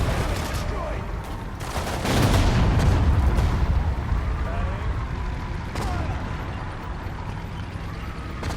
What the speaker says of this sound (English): That's the mortar.